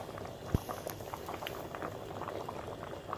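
Rice simmering in a pot of water on the stove, a steady close bubbling patter throughout with one sharp knock near the start.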